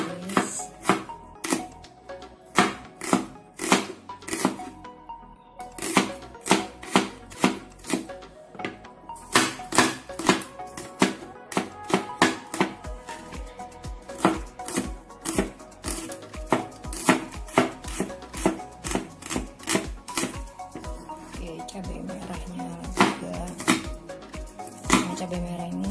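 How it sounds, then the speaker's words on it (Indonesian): A knife cuts steadily through shallots on a cutting board while cooking, with rapid, loud, close chopping taps that come in bursts with short pauses between them. "sekarang kita iris dulu bawang merahnya"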